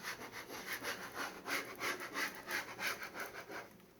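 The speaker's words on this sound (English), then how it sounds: "gently go over it again with your scraper" A scraper rubs repeatedly over a vinyl wall decal, giving a steady series of soft, close scraping strokes at a regular rhythm that fade out at the end.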